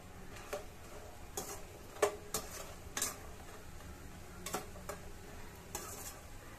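Fox nuts (makhana) fry in a pan with a faint, steady sizzle broken by scattered sharp ticks and stirring scrapes, heard quietly and close.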